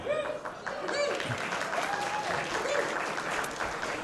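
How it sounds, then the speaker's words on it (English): Audience at a swing band show at the Cicada Club nightclub applauding in a steady, full wash of clapping that holds throughout, with faint crowd noise mixed in. "It's only your first opportunity to applaud."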